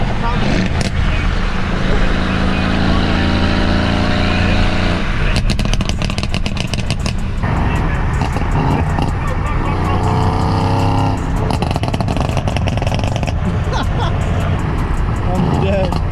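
A loud tuned Mercedes-AMG W205 C63S engine revs repeatedly in bursts, with its roaring exhaust filling the clip and voices talking over it.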